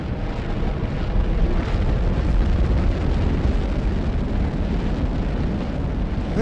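Rockets roaring down onto their launch pad in Automation Empire, a continuous, heavy rumbling blast of engine noise that holds steady and loud throughout, with no voices.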